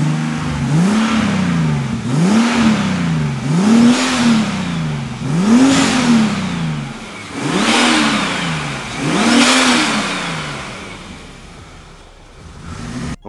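A car engine with a single muffler exhaust revs repeatedly, about six rising and falling throttle blips in an even rhythm, loud and close with no talk.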